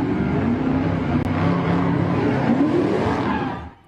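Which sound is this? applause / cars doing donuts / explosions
cars doing donuts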